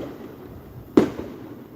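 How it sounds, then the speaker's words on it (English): A single firework bursts once with a sharp, loud bang and brief decay against quiet background. "You hear the fireworks?"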